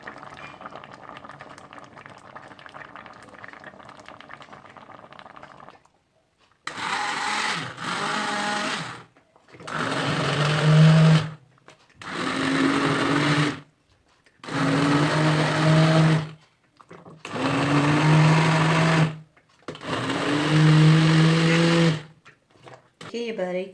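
A kitchen blender mashes cooked tomatoes for homemade ketchup in six loud whirring pulses of a few seconds each, separated by short pauses, after a quieter stretch of background noise at the start.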